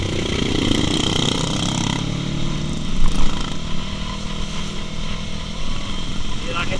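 Motorcycle engine on the road among big bikes: a continuous, fairly loud engine drone with wind rush that rises briefly as the rider accelerates, while people talk over it.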